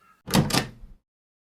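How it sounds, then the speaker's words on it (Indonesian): An indoor door's handle turns and the door slowly creaks open, heard as one close, brief stretch of rasping, grinding motion lasting under a second, followed by silence. "Pintu perlahan terbuka beberapa sentimeter."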